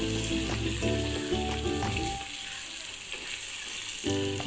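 Meat and potatoes fry in a pan with a sizzle that continues under steady tonal background music.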